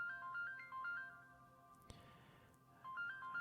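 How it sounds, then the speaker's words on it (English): Phone ringtone playing a repeating electronic melody of short tones, quiet and steady, with a brief click in the middle and no talking. "my phone is ringing."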